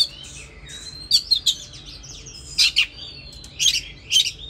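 An oriental magpie-robin singing close by, bright whistled phrases and sharp chirps in repeated bursts separated by short pauses, loud and clear against quiet surroundings.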